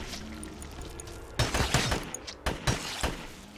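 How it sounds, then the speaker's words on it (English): Combat pistol fire in the video game GRAV, a quick cluster of sharp close shots, roughly six cracks in rapid bursts over a low game background hum. "Now let me use my combat pistol, and we'll see if it does some more damage"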